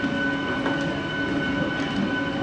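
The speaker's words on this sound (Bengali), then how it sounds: "4 নম্বর প্ল্যাটফর্মে আমাদের ট্রেন প্রবেশ করছে" Inside a passenger train on an inaugural special run from Amghata, cars rumble and hum steadily with faint wheel clatter as the train rolls into platform 4 at Krishnanagar City Junction.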